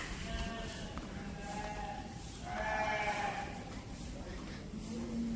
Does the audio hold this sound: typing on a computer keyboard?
no